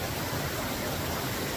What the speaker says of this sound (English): Pretty nice waterfall right here.